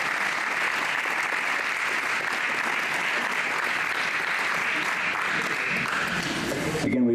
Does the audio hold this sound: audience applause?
yes